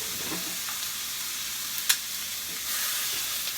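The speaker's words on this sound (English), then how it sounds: "We're about to cook the ground beef." Ground beef for homemade chili starts sizzling in a pan, a steady close hiss of frying with a few light stirring scrapes and one brief sharp tick.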